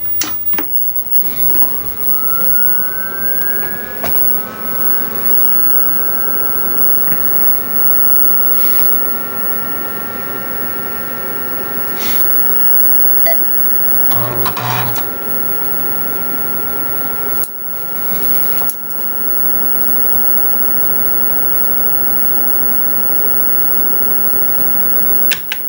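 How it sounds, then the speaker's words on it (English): An old PC boots from its internal hard drive with a rising, whining spin-up tone that settles into a steady hum, with intermittent clicks and brief drive chatter over a constant fan noise. "Just booting off my internal hard drive."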